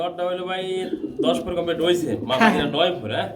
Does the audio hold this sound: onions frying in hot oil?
no